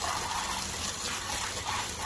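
A garden water hose spraying onto bloodstained clothes outdoors, a steady hissing gush that runs unbroken and fairly close, with no voices.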